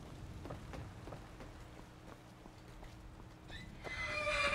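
A horse in the Skyrim video game neighs faintly amid soft clip-clopping hooves and a rain-like patter, with a brighter whinny swelling near the end.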